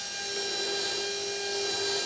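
A dental implant drill whines steadily and continuously during preparation of an implant osteotomy in the lower jaw, a thin high-pitched hum with a faint hiss, unchanging throughout.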